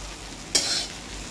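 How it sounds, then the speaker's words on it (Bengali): Egg chow mein stir-fries in a pan, with a steady sizzle and one sharp burst of tossing and scraping in the middle. "ভালো করে উপর থেকে নিচে অবধি ভালো করে নেড়ে ছেড়ে ভাজবো মানে মিক্সড করবো এটা এখন"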